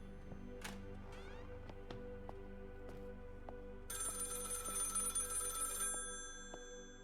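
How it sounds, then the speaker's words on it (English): A telephone rings in a video game set in 1897, with repeated bell-like rings over a steady musical drone and a bright tonal layer joining midway, no talking. "Answer the phone."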